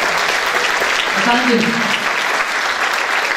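Loud, sustained applause from a concert audience at a memorial concert for the Çanakkale martyrs, a dense even roar of clapping throughout, with a voice briefly speaking over it.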